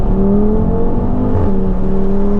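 Loud, close engine drone from an Audi RS3 8P Stage 2 with about 460 bhp, a steady throbbing note under acceleration that dips briefly as if through a gear change.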